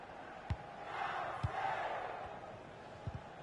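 A stadium crowd roars steadily in a PS4 football video game, a broad, fairly quiet wash of cheering with a few soft thumps and no talking.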